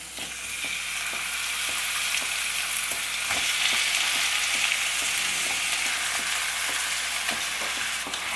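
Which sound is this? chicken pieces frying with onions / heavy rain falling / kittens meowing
chicken pieces frying with onions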